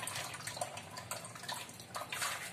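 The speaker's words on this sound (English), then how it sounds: "drain out the entire water using a colander" Water drains from softened chickpeas in a colander, a soft, steady splashing and trickling heard faintly up close with no voices.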